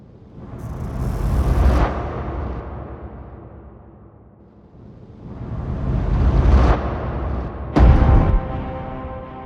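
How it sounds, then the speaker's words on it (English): Sweeping whooshes and textured fragments from the Artifact sound library rise and fall in two broad swells, with a sharp, bright hit near the end and a sustained tonal tail, loud and dense throughout. "I've got these whooshes and fragments from Artifact"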